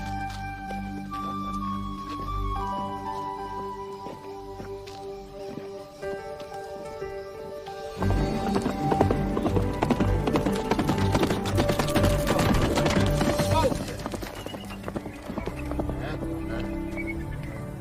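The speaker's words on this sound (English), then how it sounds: "Will, that girl sure knew what she was doing when she bought that big black horse" Horse hooves clip-clopping, from a big black horse, heard as rapid rhythmic clopping that rises and thickens midway, close by under a bed of music.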